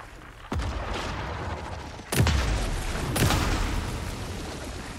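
Gunfire in Alan Wake 2 during a boss fight in a bunker: a few heavy shots, one soft then two loud booming blasts about a second apart, over steady game ambience.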